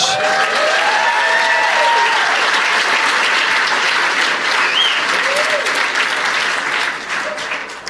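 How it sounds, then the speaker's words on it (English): Loud, sustained applause from a stand-up comedy audience clapping for educators, a dense wash of many hands filling the room for several seconds before easing slightly at the end. "Clap for all these educators."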